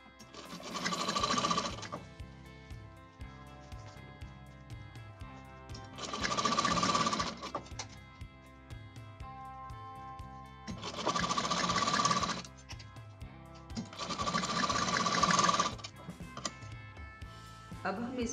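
A sewing machine stitches a zip into a blouse in four rapid bursts of fast mechanical rattling, each lasting a second or two and separated by quieter pauses, heard up close.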